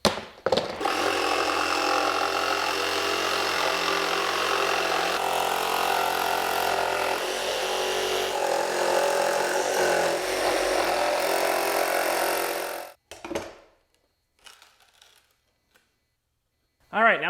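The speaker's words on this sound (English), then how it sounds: "I need to cut the holes in here for these plastic bins to drop into" A power tool cuts holes into a wooden board for Lego bin storage, a loud continuous whine and grind for about twelve seconds, then it stops, followed by brief clattering and near silence.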